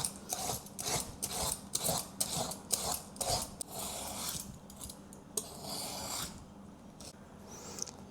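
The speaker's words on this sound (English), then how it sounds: "let's peel up the skin." The skin is peeled off a luffa gourd in a home kitchen with a series of rasping, scraping strokes in an uneven rhythm, close and fairly faint, with no talk.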